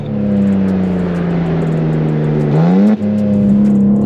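A BMW M2 sports car engine revs steadily, close and loud, with a brief dip and rise in pitch near the end.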